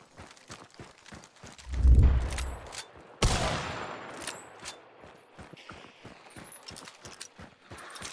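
A Mako 1895 carbine lever rifle in Hunt: Showdown fires two heavy, booming gunshots about a second apart. A steady rhythmic clicking of footsteps and mechanism runs quietly throughout.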